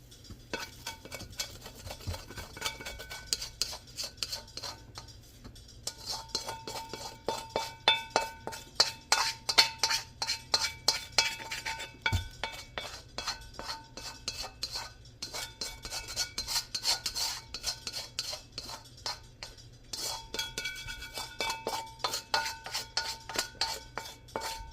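A spoon scrapes and spreads a rice mixture around an oblong casserole dish, with dense rhythmic rasping strokes and small metallic clinks repeating for a long stretch, close up, with no talking.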